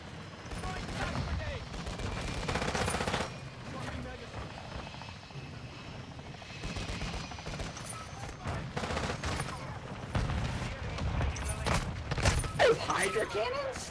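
Hydra jet cannons fire in a video game, a loud sustained barrage of rapid gunfire bursts layered with aircraft engine roar, with people talking over the action.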